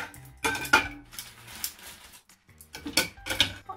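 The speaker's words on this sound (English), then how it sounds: "handful of ice into my shaker" A handful of ice dropped into a metal cocktail shaker for a Sidecar: a few bursts of clattering, clinking cubes, close and bright, separated by a short pause before a second rattle.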